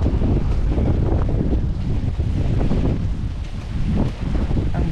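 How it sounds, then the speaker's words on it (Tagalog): Strong wind gusts across open farm fields in Nueva Ecija and buffets the microphone with loud, continuous low rumbling and roar. The wind surges and dips slightly, and no voices are heard. "kung gaano kalakas ang hangin sa kabukiran"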